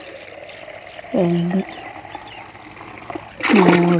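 Water pours from a mug in two short splashing bursts, close by, while a voice counts the mugs aloud for a liquid plant fertilizer.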